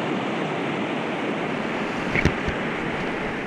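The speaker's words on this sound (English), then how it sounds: "Almost straight away we find ourselves crashing through white water." A canoe runs through the white water of Chase Rapids on the Allagash Wilderness Waterway: steady, loud rushing water and wind noise, with a couple of sharp splashing hits near the end.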